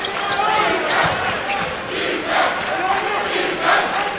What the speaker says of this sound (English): Good crowd on hand here at the Child Center, trying to get into it now for the dunk by Hartwich